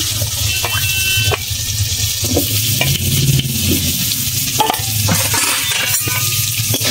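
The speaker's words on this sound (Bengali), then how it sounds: "আলুটা নেড়ে চেড়ে ভেজে নেবো ভালো করে" Cut potatoes frying in oil with black cumin in a pan, loud continuous sizzling broken by repeated scraping stirs and occasional clinks of a utensil against the pan.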